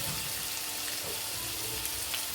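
Ingredients for lemon rice sautéing in a pan give a steady, close, hissing sizzle that runs unbroken for the whole stretch, with no voices.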